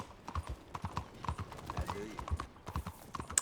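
A horse's hooves clip-clop in Red Dead Redemption 2, played on an Xbox Series S. The hoofbeats are a quiet, steady, rapid patter with soft game ambience around them.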